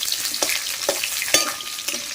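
Vegetables for a hilsa curry sizzle in hot oil, a bright crackling fry punctuated by several sharp stirring scrapes at a regular pace, close and clear with no talking.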